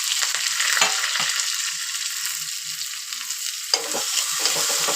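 Onion going into a pan with toasted cumin for a Maharashtrian colocasia-leaf bhaji, a steady close sizzle with a few stirring scrapes, loud and continuous with no talk.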